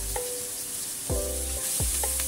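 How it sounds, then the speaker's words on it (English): Beef shank or tenderloin slices with carrot slices stir-fried in a pan, giving a steady soft sizzle with a few sharper scraping strokes of the utensil, close and fairly quiet, no voices. "Stir fry a little bit"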